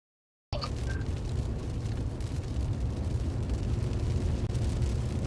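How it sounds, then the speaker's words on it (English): Strong tornado heard on a live storm-chase feed, a loud continuous low roaring rumble like heavy wind buffeting, starting abruptly and holding steady throughout. "Sounds like this tornado is getting strong."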